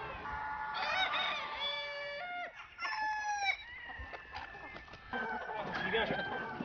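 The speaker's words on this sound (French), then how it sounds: "t'as des belles poules" Hens clucking and a rooster crowing on a Normandy farm, several drawn-out crows rising and falling over steady clucking, fairly close, with voices talking in the background.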